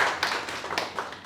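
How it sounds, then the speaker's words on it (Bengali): A small audience at a training session claps briefly, a short burst of scattered handclaps lasting barely a second, fairly quiet and nearby. "হাততালি"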